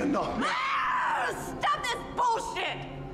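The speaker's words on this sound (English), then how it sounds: "Why'd she scream like that?" A woman screams in a scene from the horror film Saw II (2005), loud, drawn-out cries and shrieks over a few seconds, mixed with other film sounds.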